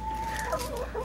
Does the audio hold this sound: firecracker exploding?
no